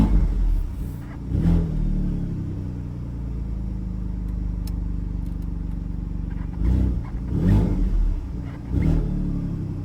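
An Alfa Romeo Stelvio Quadrifoglio V6, started cold, holds a steady rumbling idle punctuated by several short, loud throttle blips near the start and again toward the end.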